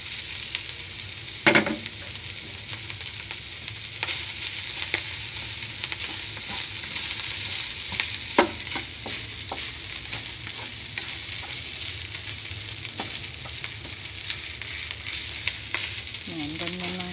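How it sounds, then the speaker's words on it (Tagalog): Boiled vegetables being stirred and fried in a pan, with rice about to be added; a continuous sizzle runs under repeated scraping and clicking of the utensil, close and steady. "Halo-halo lang po hanggang maluto yung gulay."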